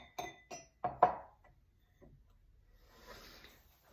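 Glazed ceramic wine cups, a white-clay body with a satin white liner fresh from a kiln firing, clink together in three quick sharp knocks as they are handled, followed by a softer rustle.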